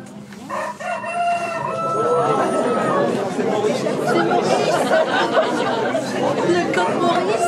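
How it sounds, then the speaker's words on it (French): A rooster crows in the countryside, its call rising clearly over steady chattering voices nearby. "Le coq chante."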